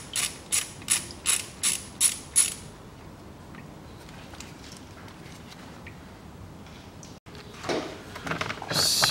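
A ratchet loosens the transmission oil pan bolts on a 2003 Toyota Caldina 2.0 automatic, giving a run of about seven quick, close clicking bursts, then quiet workshop rustles and a few faint clatters.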